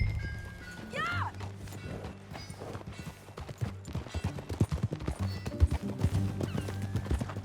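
Horse hooves clip-clop steadily in Red Dead Redemption 2, a rhythmic trotting close by under background music, with a whinny near the start.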